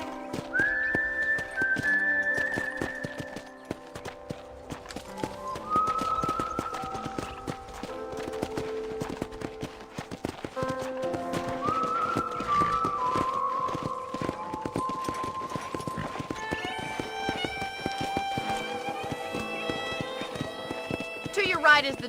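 Horse hooves clip-clopping with an occasional whinny in the Western video game Red Dead Redemption, set under continuous music and talk, with the hoofbeats steady and moderately close.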